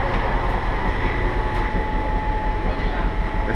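A historic café tram rolls on its rails in Santos, a steady, loud rumble of wheels and car body with a faint high whine running through it and no talk over it.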